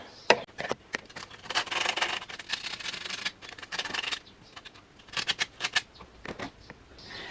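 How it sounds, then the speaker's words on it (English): Sandpaper rubbed back and forth on a car battery terminal lug to bare the metal, close-up gritty rasping in irregular bursts with short pauses between strokes. "you can also hit it with a bit of sandpaper, just rub it back a little"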